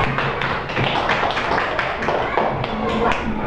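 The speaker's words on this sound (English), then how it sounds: "give applause for Vida" Steady classroom applause for a student, a dense patter of many hands clapping throughout, fairly close and lively.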